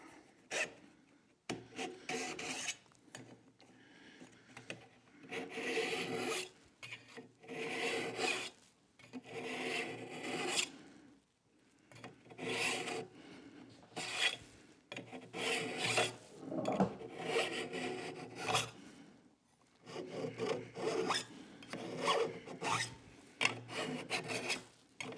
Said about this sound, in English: now that I have a 45-degree bevel basically cut on the edge of this card scraper